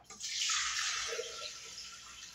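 About 600 g of water pours into a rinsed Thermomix bowl as one steady, hissing stream that rushes in fast, then eases slightly. It is fairly quiet and close, with no talk.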